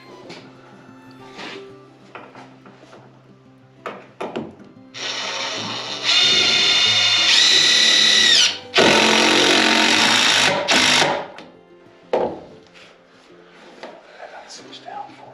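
Power drill driving screws into wooden basement steps, with loud whirring bursts of several seconds each, separated by short gaps, and people talking around them.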